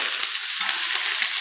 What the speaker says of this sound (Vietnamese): Mình xào sơ qua như thế này nè các bạn, nó sẽ giúp cho cái món ăn của mình nó cực kỳ thơm luôn á